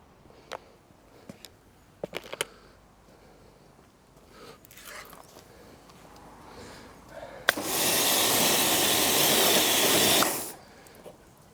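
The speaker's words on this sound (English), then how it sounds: "I'll just bomb off the back end of it with a jet wash" A jet wash pressure washer blasts the back end of a CF Moto Explore motorbike in one loud, steady hissing burst lasting about three seconds, following a stretch of quieter clicks and handling noises.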